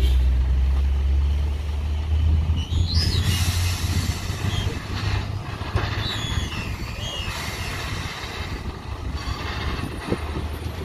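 A heavy livestock trailer truck's engine labors and rumbles close by, straining up a steep hill, with a low drone, occasional squeaks and clanks, and a brief hiss like air brakes.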